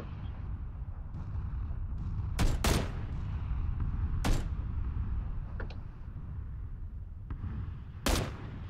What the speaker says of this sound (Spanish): Un tiro. Dos tiros.